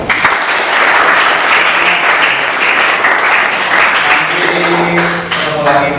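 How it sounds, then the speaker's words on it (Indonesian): Loud, close audience applause in a classroom guidance session, dense clapping filling most of the span before tapering, with a voice speaking briefly near the end. "Oke, sekali tepuk tangan buat Pak."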